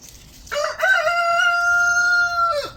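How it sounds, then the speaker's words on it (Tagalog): A rooster crows once, loud and near, a long sustained cock-a-doodle-doo lasting about two seconds, beside a garden with a chicken coop nearby. "Tumilaok pa yung manok."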